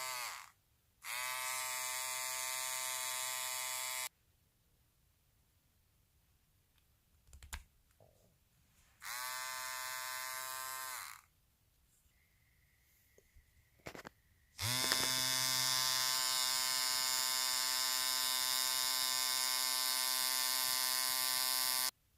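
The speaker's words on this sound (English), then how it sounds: "In order to start the shaver, you have to twist the body." Philips Series 3000 nose trimmer switching on and off in three bursts, a steady high-pitched motor whine with a strong harmonic buzz, close and loud, separated by quiet gaps with faint handling clicks.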